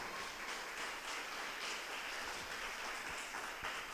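A church congregation claps during a morning service, a steady, fairly faint wash of applause with no one talking over it.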